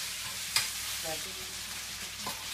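Potatoes frying in a pan for a home lunch, a soft continuous sizzle with a sharp clink or two of a utensil, quiet and close, no talking.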